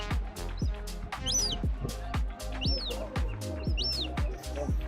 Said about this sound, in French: il y a une mouette avec son bébé mouette.